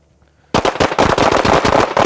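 Pistol fired in a rapid bill drill shooting exercise: after a short quiet moment, a fast, loud burst of about a dozen closely spaced shots rings out continuously to the end.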